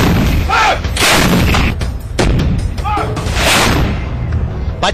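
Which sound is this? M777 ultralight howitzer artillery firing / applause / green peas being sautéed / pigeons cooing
M777 ultralight howitzer artillery firing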